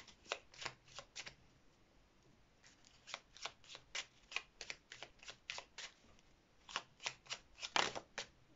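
Tarot cards shuffled close by in rapid flurries of crisp riffles and slaps, with a pause near the middle before a denser burst, no voices.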